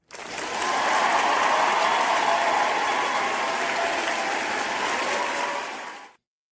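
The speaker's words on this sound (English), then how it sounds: "Round of applause for y'all." An audience at a live show claps loudly and continuously, the applause swelling in quickly, holding steady for about five seconds, then cutting off abruptly.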